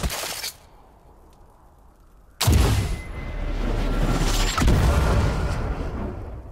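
A video game trap detonates in a sudden loud blast after a brief quiet pause, followed by a sustained rumbling roar and a second, smaller burst near the end.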